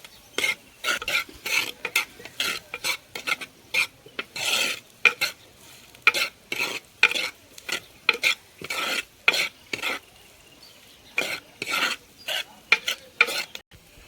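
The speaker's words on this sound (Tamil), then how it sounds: "வெங்காயம் இன்னும் கொஞ்சம் வணங்கணும்." Onions sauté in a pan for chicken gravy. A spoon rhythmically scrapes and stirs in repeated close bursts over a soft sizzle, with brief pauses between strokes.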